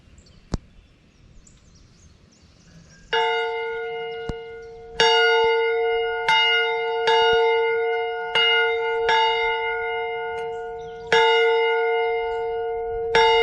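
A bell rung by a rider on a Honda CT125 at a forest campground in Shawnee National Forest: after a faint knock, a loud, ringing tone starts and is struck again about seven times in an uneven rhythm, each stroke sustaining over the last.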